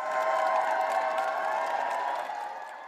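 A large crowd outside Windsor Castle cheers and applauds in a steady, dense wash of clapping and voices that fades slightly toward the end, heard from within the throng.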